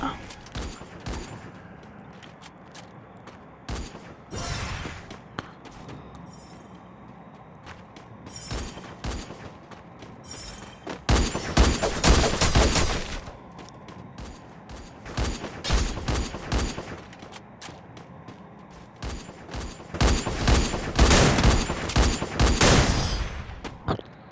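Rapid gunfire from a shooting video game, with dense bursts of shots and heavier volleys coming in waves, loud and close, with a faint voice underneath at times.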